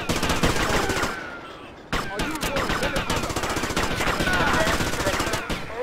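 Rapid automatic gunfire in Grand Theft Auto Vice City, loud and close, with dense bursts of shots running almost throughout and only a brief break before the firing resumes.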